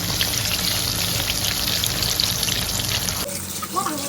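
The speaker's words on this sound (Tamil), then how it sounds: "எல்லா மீனும் பொரித்து எடுத்துக்கலாம்." Fish frying in oil for a Chettinad-style fish fry, a dense, loud crackling sizzle up close that cuts off near the end, leaving brief quiet clatter.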